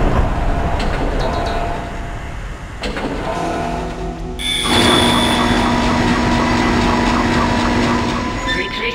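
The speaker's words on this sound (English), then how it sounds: "Replacing damaged tram car." A tram car in the Dead Space game rumbles and grinds along its track, loud and close, swelling into a sustained metallic whine with tonal hums after a heavy clunk midway.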